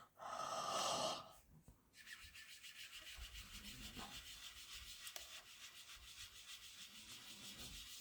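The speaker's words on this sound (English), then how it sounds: "I'm going to breathe on this." A short, close burst of breath onto a rubber stamp during paper crafting, followed by soft rubbing and faint scuffing in a quiet room.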